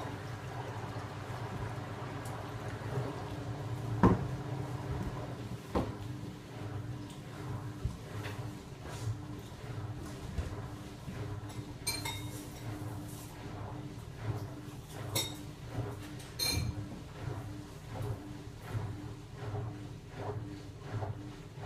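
An AEG Lavamat Protex washing machine running its first rinse gives a steady low hum and churning water, with occasional clicks and sloshes, heard close and moderately quiet with no talk.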